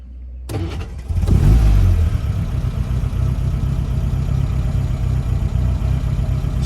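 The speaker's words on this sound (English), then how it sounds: "quick video of start up and idling on this 1956 TR3" A 1956 Triumph TR3 engine cranks and catches with a loud burst, revs briefly, then settles into a steady, close, rumbling idle.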